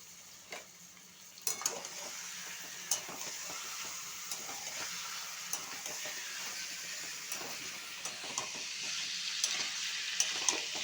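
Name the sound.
frying onions and chicken in a pan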